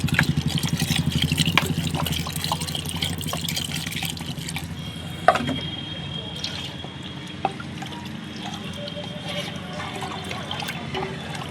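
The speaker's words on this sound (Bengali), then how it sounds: "এবার একটু বেশি করে জল দিয়ে দেবো" Water is poured generously into a pot of lentils and mixed vegetables for a soft vegetable khichuri, a steady splashing trickle running for a few seconds with kitchen clatter afterward.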